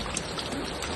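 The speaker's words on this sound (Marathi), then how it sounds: "आता पाऊस आलाय." Steady rain patters down on the village of Vadgaon in a dense, even hiss over a brief moment, fairly close, with no voices.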